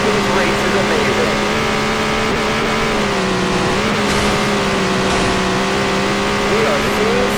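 Race cars at full throttle on a track during a showcase race, a continuous loud engine drone with shifting pitch under crowd and commentary noise.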